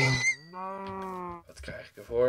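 A long, low mooing cow call in Minecraft sits between bits of spoken talk, clear and close, with a voice speaking before and after it.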